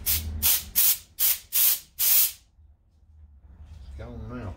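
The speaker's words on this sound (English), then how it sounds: "So the way I remove it, I'm going to put the air hose." Short bursts of compressed air from an air hose blast debris off the screen of a Craftsman LT1500 riding mower with a Power More engine, six loud hissing puffs in steady rhythm, then a quiet pause before a voice begins.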